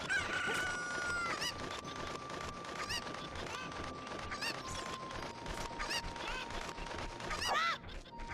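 Video game chickens crowing and clucking amid busy in-game noise, repeated fowl calls over a sustained tone and dense clattering background for the whole stretch.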